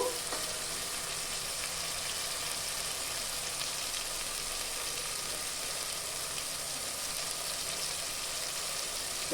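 Masala spiced with chili powder frying for chicken biryani, a steady, dense, close sizzle that runs without a break and has no talking over it.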